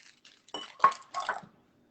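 Small acini de pepe pastina pours into a pot and gets stirred, giving a few soft rattling, clinking bursts with brief gaps between them, close and fairly quiet.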